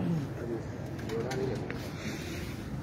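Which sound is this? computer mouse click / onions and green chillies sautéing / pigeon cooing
pigeon cooing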